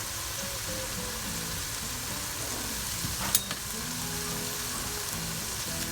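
Garam masala powder is added to a spice paste frying for a pangas fish curry, with a continuous close sizzle and a brief clink of a utensil near the middle.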